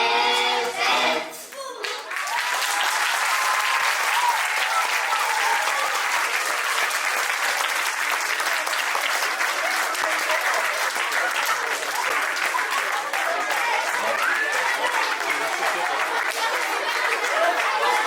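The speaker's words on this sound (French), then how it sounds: "On peut les applaudir déjà." Sustained, loud applause from a children's school audience at the Félix Piat school during a song-making workshop, steady clapping filling the room after a brief faint start, with some chatter mixed in.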